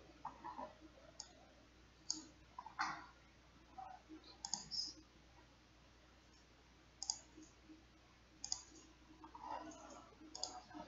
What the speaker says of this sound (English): To exit, just double click.